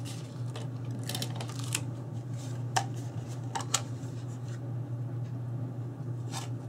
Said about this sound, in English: Can maybe add a tape runner.